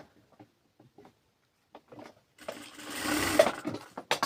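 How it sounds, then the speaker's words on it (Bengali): A sewing machine stitches a round dress neckline in a short, steady whirring burst that starts after about two and a half seconds, following scattered faint handling sounds. "আমরা একটা সেলাই করে নেব একটু সেলাই দিয়ে আটকে নিই"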